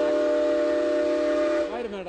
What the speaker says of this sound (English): You like those whistles, don't you?